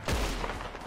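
A gunshot in the Red Dead Online video game, with one sharp blast up front followed by a short rumbling tail.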